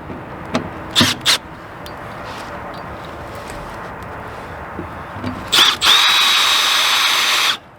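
A power drill drives self-tapping screws on an RV. Two short whirring bursts come early, then a longer, louder run near the end that rises in pitch and holds steady before cutting off. Close and clear, with no speech.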